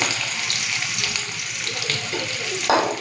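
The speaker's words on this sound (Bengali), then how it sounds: "চলুন কড়াইটা একটুখানি ধুয়ে নিই" Water hisses and splashes while a kadai is rinsed, a brief, fairly soft wash of sound with a louder splash near the end.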